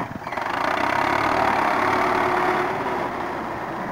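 A Russian tractor fitted with a front bucket loads a trolley. Its heavy engine drones steadily and loudly nearby, with a low rumble and vibration, and eases off slightly toward the end.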